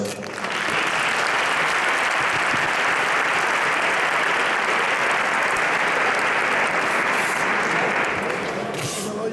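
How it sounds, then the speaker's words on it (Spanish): A large audience at the 2018 Silla de Oro flamenco contest final concert in Leganés gives sustained, loud applause, a dense roar of clapping that swells in quickly, holds strong for several seconds and eases slightly at the end. "gracias y un aplauso para todos"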